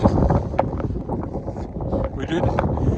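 Blizzard wind in Regina, with gusts up to 110 km/h, buffets the microphone in a constant low roar with rougher bursts throughout.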